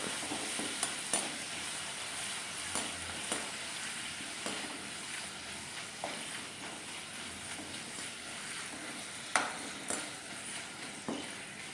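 Pappadam frying in hot oil as a garnish for Kerala-style beef dry fry, a steady close sizzle broken by scattered sharp crackles and pops.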